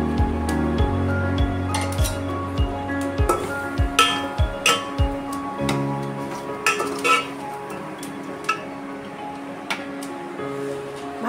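Fried pointed gourd pieces are added to spiced masala in a pan and stirred, making a steady run of close metallic clinks and scrapes of the spatula against cookware over a soft sizzle.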